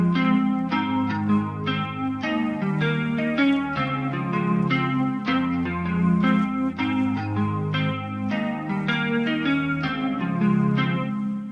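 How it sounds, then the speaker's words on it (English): A lo-fi beat with chords and melody soaked in vinyl crackle, wobbly chorus, gritty distortion and reverb, playing steadily throughout. "give it some more vinyl crackle, some wobble, a little bit of distortion, a little bit of reverb"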